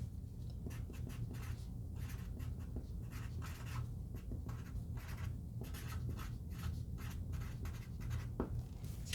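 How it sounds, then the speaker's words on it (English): A pen scratches across paper in close, steady strokes with short pauses between them, heard clearly and alone. "I am going to write down what I said earlier"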